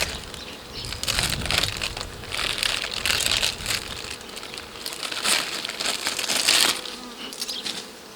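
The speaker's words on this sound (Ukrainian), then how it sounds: "От така кількість тут бджіл." Dense swarm of honey bees buzzing around an opened Ukrainian-Alpine hive on a sunny, windy day, a steady loud drone swelling and fading in waves, with no voices.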